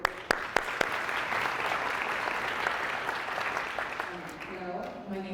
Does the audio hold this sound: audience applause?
yes